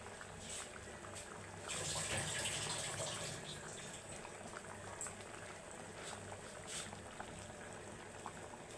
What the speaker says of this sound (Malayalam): നമ്മുടെ കഷ്ണങ്ങളും അരപ്പും കൂടെ ഉള്ളത് നല്ലോണം തിളച്ചിട്ടുണ്ട്